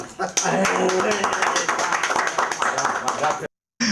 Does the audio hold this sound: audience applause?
yes